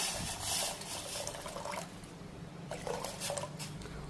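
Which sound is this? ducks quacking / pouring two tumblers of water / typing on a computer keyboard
pouring two tumblers of water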